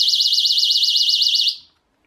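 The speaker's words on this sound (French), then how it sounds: "j'ai mis une deuxième alim en 12 volts pour cette autre sirène plus puissante" A powerful electronic alarm siren fed by a 12-volt supply wails loudly with a fast, regular warbling rise and fall, then cuts off and fades to silence after about one and a half seconds.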